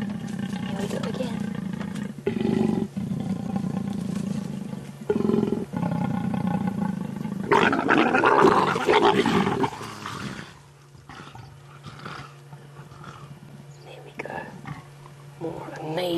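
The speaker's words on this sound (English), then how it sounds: "how it is that the leopards make that interesting sound" Mating leopards on a safari sunrise drive give deep rasping growls and roars in rough bursts, loud and close, with quiet voices murmuring and vehicle hum in the background.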